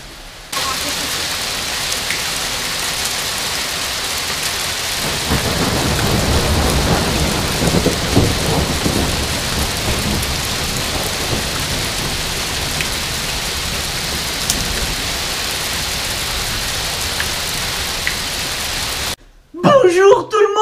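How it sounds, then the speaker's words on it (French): Heavy thunderstorm with rain and hail pouring down steadily and loudly, broadband roar with rumbling low thunder swelling midway, then a voice briefly at the very end. "Il y a un orage de malade et il pleut comme, comme une vache qui pisse."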